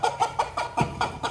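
A hen clucks repeatedly in short, evenly spaced bursts, close and fairly loud, with no talking over it.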